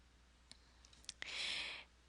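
A computer mouse gives a few faint, sharp clicks on a login button, close and isolated, followed by a short soft hiss of breath.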